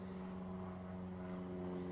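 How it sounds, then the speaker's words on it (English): A propeller airplane drones steadily overhead on its way to a small nearby airport, a continuous low engine hum holding even and moderately distant over a quiet garden. "we just have a lot of planes going to that little airport"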